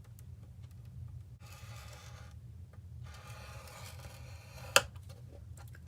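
A scoring tool is drawn along cardstock in two short rasping strokes, faint and close, with a single sharp tap near the end and quiet room hum beneath.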